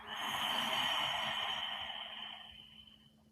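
A single slow exhale during a guided breathing exercise: a soft, airy breath that swells, holds briefly and fades out over about three seconds, close and quiet with no talking.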